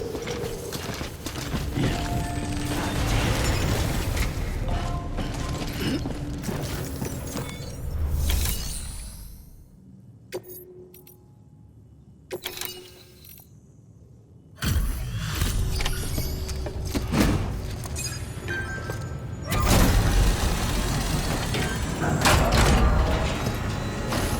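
Suit decontamination machinery in Death Stranding: loud mechanical whooshing, hissing and clanking, a sudden hush broken by sharp clicks and a thud, then the hissing and rumbling surge back.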